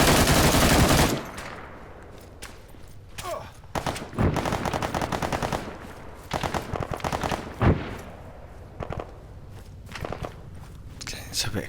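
Gunfire in the military shooter Arma 3: sharp bursts and rapid volleys of shots, some near and some farther off, mixed with footsteps and movement sounds, while a player talks quietly over the top.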